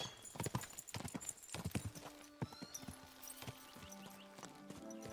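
Hooves clip-clop in a steady walking rhythm in the video game Kingdom Come: Deliverance 2, with a horse snorting and a low tonal hum underneath, fairly clear and close.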